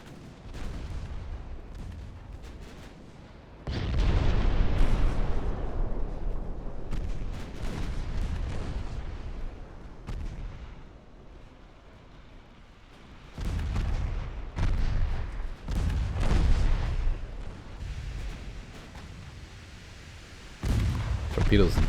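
Secondary guns on a warship boom in the naval video game Ultimate Admiral: Dreadnoughts, heavy deep blasts arriving in repeated volleys with rumbling decay between them, loud and close, several separate salvos over the span.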